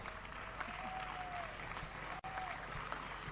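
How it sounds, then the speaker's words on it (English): Applause for gold medalists in mixed doubles at a pickleball open championship, a faint, steady patter of clapping from a modest crowd heard at a distance, with a brief drop partway through. "Let's give them a round of applause."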